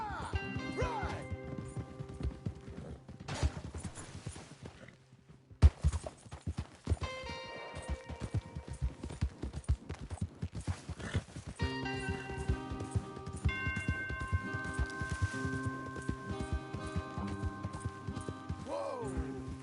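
Video game horse hooves gallop in a steady clip-clop over a busy musical score with scattered impacts, continuing throughout with a short pause midway.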